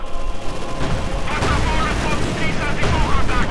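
A mortar incendiary barrage and gunfire in Company of Heroes 2 make dense rolling bursts of explosions and crackling shots that fill the scene loudly and continuously, with a commentator talking throughout.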